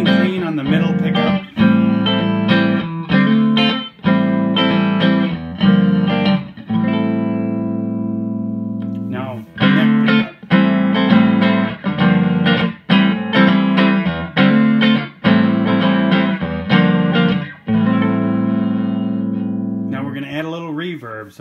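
Clean electric guitar chords played on the middle pickup, strummed in a repeating rhythmic pattern, close and fairly loud, with short pauses between phrases and no talking.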